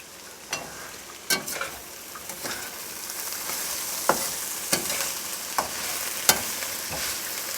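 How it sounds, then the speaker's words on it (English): Onions browning in a pan in a small home kitchen, a steady soft sizzle broken by several sharp clicks and scrapes of stirring, close and fairly quiet, with no one speaking. "Still browning the onions here."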